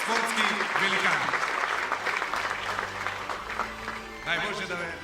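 Audience applause at a Macedonian football awards ceremony for the 2014/15 season, sustained clapping throughout with someone talking over it on a microphone.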